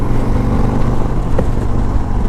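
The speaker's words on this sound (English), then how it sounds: "You hear more exhaust than motor when you're sitting on the seat here," A 2021 Harley-Davidson Street Glide Special with stock exhaust pipes rumbles while riding, a deep steady low-pitched throb from the exhaust heard close up from the seat, alone without talk.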